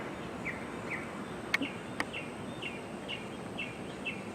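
Doves call outdoors in a repeated series of soft, evenly spaced notes, faint and at a distance, with two sharp clicks partway through.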